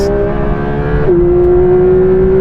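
A car launches from 0 to 60 in a race against a BMW, its engine a loud, steady whine that drops in pitch briefly at a gear change before climbing again.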